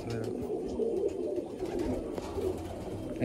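Low pigeon cooing drifts through a loft, steady and fairly faint beneath a busy background hum, with a brief voice present.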